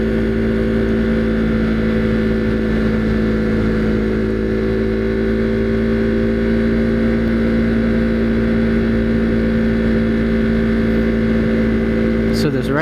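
A Husqvarna Svartpilen motorcycle rides through curves on the Blue Ridge Parkway, its engine holding a loud, steady droning hum with wind rush throughout and a brief pitch change near the end.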